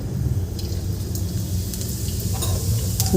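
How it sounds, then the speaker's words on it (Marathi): Mustard seeds and cumin crackle and sizzle in hot oil for a Marathi pavta (popat) curry, a steady dense frying hiss with small pops close by and no voices. "यामध्ये आपल्याला हे आपलं तेल गरम झालेलं आहे यात मोहरी घालायची आहे"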